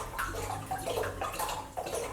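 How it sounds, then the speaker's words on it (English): Red wine poured into a pot to make mulled wine, a close, steady splashing and gurgling pour that runs through the whole short moment without speech. "We're gonna add 6 cups of red wine."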